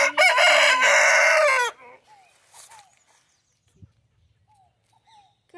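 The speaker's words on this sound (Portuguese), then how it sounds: "A galinha." A rooster gives one loud, close cock-a-doodle-doo crow at a town outing in Assis, São Paulo, followed by a few faint, scattered clucks and bird calls against near silence.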